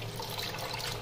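Tap water runs in a steady, even stream while vegetables and fish such as katla, tangra and prawns are rinsed at a home kitchen sink.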